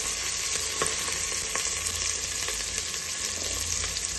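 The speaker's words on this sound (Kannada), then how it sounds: "ಈರುಳ್ಳಿ ಹಾಕ್ಕೊಂಡು ಈರುಳ್ಳಿ ಕೆಂಪುಗಾಗೋ ತನಕ ಚೆನ್ನಾಗಿ ಹುರಿಬೇಕು." Onions frying in oil in a pan for double beans rice bath, a steady close sizzle with a few light stirring clicks.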